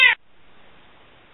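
A domestic cat woken from a nap lets out one short, sharp, loud meow at the very start, then the room falls to a faint, quiet hiss.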